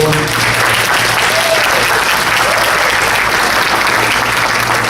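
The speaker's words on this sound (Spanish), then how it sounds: "Vamos a darle un buen aplauso." Congregation applauding during a Spanish-language church service, a steady, dense wash of clapping from many hands that holds loud and unbroken for the full five seconds.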